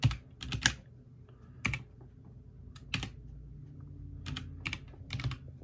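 Keys on a computer keyboard are tapped in short, scattered clusters with pauses between, close and clear in a quiet room, no voices present.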